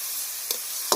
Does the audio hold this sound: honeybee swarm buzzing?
no